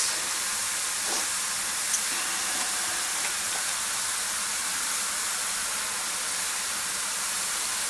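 Small potato sticks for potato pie deep-fry in hot oil, a continuous even hiss of bubbling oil that holds steady and fairly quiet throughout with faint occasional pops and no talking.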